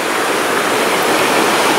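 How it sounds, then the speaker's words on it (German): Small river rapids in a park in Bamberg: steady, dense rushing water, loud and close, a continuous broadband roar with no pauses and no voices. "Mit Bootsanleger, kleinen Stromschnellen."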